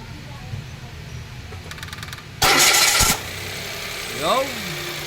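Mitsubishi Mirage with a freshly replaced belt cranks briefly and fires up, catching into a steady idle and then blipping once, close by with a voice in the background.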